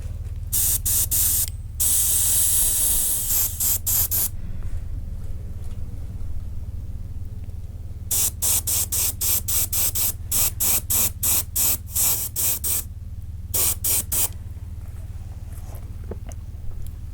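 Spray paint hisses over a stencil in short bursts, a quick cluster, a long spray, then a rapid run of short pulses over a steady low hum.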